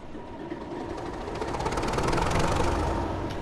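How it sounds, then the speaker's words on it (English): BR class 31 diesel locomotive engine starting up, a low rumbling crank building steadily into a heavier, louder mechanical roar with no voices. "start the engine by holding the engine start button"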